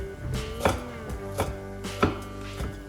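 Knife chopping parsley on a cutting board, a handful of crisp, evenly spaced thuds close by, with quiet background hum.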